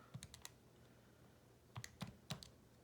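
Keys pressed on a calculator keypad while working out a law of cosines problem, a few short quiet clicks at the start and then another three or four after a pause, close by and alone.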